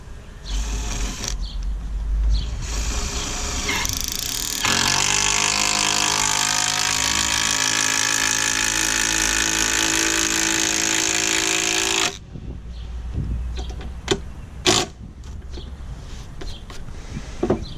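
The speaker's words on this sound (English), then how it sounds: "now I'm going to keep fastening down this row here" A power driver sinks a screw into timber while a raised garden bed is assembled, one sustained loud whirring burst of several seconds between quieter handling knocks, no speech.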